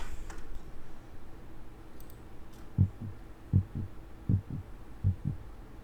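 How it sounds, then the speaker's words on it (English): Soft, low heartbeat thumps in a steady double-beat pattern, four beats in a row, faint and muffled, following a quiet hiss. "We could also just do like heart beating sound effect."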